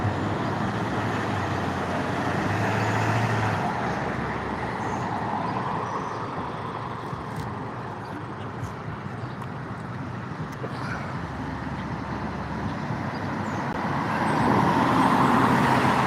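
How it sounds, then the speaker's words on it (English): A city vehicle drives past on the road, a broad steady rumble of engine and tyre noise that stays loud throughout and swells again near the end. "There goes that city vehicle again."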